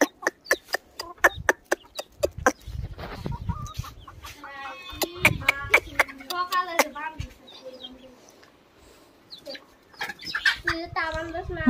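Hens cluck close by in a rural Bengali home, with bursts of rhythmic clucking and a few sharper calls mixed in among people talking nearby.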